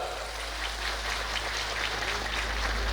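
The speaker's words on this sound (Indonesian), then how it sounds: "Tepuk tangan dulu untuk Pak Lurah" Mosque congregation at a large religious gathering claps for the village head, a steady, even wash of applause filling the room with no break, heard slightly distant and without talk.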